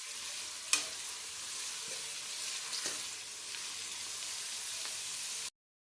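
Sliced onions frying in plenty of oil until brown for a chicken curry, a steady close sizzle with occasional stirring clinks and scrapes, no voices.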